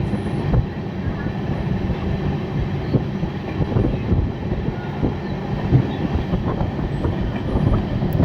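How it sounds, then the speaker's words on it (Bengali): The Sairang Express crossing the Nasipur rail bridge over the Bhagirathi River, heard from on board as a loud, continuous rumble with repeated wheel clicks and rattling carriages. "এই ট্রেনে করে এখন আমি সেই নসিপুর রেল ব্রিজ বেরোবো"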